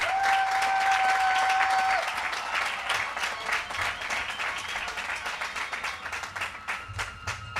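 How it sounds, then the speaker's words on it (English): Applause from a crowd at a Brentwood High School graduation ceremony for the Class of 2023, steady dense clapping filling the hall with a brief tonal whistle near the start. "Can we give the Brentwood School District a round of applause?"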